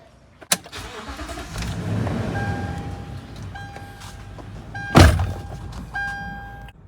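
A 2007-2019 Toyota Sequoia engine cranks and starts after an oxygen sensor replacement, a door thunk followed by a rising engine turnover that settles into a low idle, with warning chimes and another loud thunk nearby.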